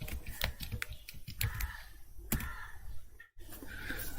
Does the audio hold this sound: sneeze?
no